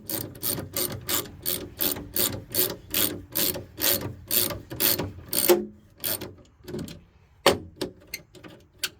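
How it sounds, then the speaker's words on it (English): A ratchet wrench clicks in a fast, steady run of sharp strokes as it turns a thread tap to clean the threads of bolts for a Gen 4 Dodge 3500 pickup. The strokes pause briefly, then a few scattered clicks follow. "So I thought I'd use a tap instead of a thread chaser."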